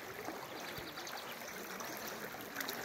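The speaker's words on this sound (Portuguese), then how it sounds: "a força da água do rio vindo aqui para a estrada." River water from the Cariús surging across a road at the Canavieira dam, a steady, close rushing and trickling wash that runs unbroken throughout with no voices over it.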